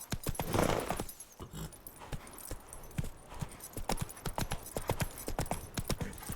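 Roach, a horse in The Witcher 3: Wild Hunt, gallops with a steady, close clip-clop of hoofbeats running throughout, the rhythmic thuds loud and continuous over a faint game background.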